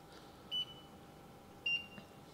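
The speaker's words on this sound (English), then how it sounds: "You can even hear the KH Guardian there beeping in the background." Two short, faint high-pitched electronic beeps from a KH Guardian aquarium monitoring controller, about a second apart over a quiet background hiss.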